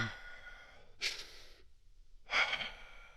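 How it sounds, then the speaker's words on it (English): Two quick, airy breaths drawn in sharply into the upper chest about a second apart, anxious and shallow, close and soft, with quiet room hiss between them. "you're breathing in your upper chest"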